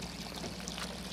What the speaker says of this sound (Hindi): देखिए ऊपर से जड़ी बूटियों का पानी आ रहा है।